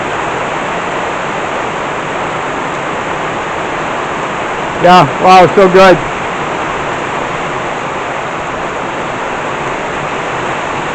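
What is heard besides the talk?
rainwater running down during a thunderstorm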